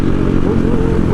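Big motorcycle engine roaring loud and steady at close range during a wheelie, a dense constant rumble with no talk.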